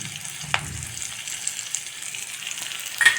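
Asafoetida dropped into hot oil while cooking sabudana pongal, a soft steady sizzle and frying crackle with a few small pops, close and fairly quiet.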